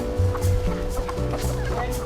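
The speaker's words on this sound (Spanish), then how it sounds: "Y mira, gallinas, les voy a dar algo de comer también." Hens cluck in short, low, repeated bursts close by, with a steady faint hum underneath and no talking.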